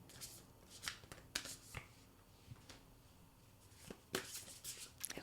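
A deck of Moonology oracle cards being shuffled by hand in a quiet room, a string of crisp riffling bursts and soft card slaps spread unevenly through the clip, close and fairly gentle with no talking.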